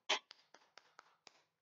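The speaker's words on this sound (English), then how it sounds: "I'm going to clap my hands together eight times" A person claps their hands together in a quick series: about six sharp, evenly spaced claps, close and clear, heard alone without any voices.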